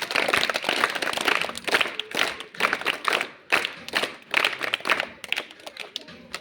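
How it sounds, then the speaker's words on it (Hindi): A group claps together in applause for a classmate, a dense, steady patter of many hands that swells and dips in waves for several seconds, with no voices over it. "बहुत सुंदर तालियां बजाना भैया"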